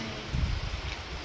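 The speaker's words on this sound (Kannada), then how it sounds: "ಈಗ ಮಳೆನೇ ಶುರುವಾಯಿತು. ಆದರೆ ಇನ್ನೂ ಜೋರಾಗಿ ಬರ್ತಿಲ್ಲ ಮಳೆ, ಸಣ್ಣಗೆ ಬರ್ತೈತಲ್ಲ, ನಿಧಾನಕ್ಕೆ ಬರ್ತೈತೆ." Light rain that has just begun falls as a soft, steady wash of patter, with a brief dull thump partway through.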